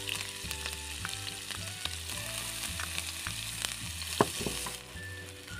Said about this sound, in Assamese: এতিয়া তেলখিনি গৰম হৈ গ'ল, আৰু ইয়াতে মই এতিয়া কাটি থোৱা পিঁয়াজখিনি দি দিম।